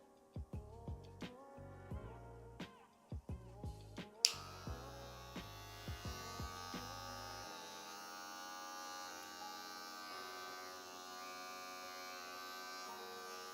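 A Wahl Super Taper hair clipper, just repaired with a fixed loose lever, clicks and hums in short bursts, then settles into a steady, close electric buzz that runs on alone.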